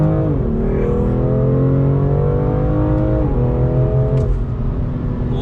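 A 2020 BMW M2 Competition's engine pulls hard on throttle, its loud, close exhaust note climbing through quick gear shifts, with the pitch dropping briefly between rising sweeps and no talk over it.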